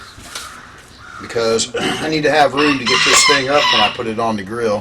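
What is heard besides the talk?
rooster crowing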